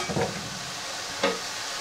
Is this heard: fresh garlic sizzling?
yes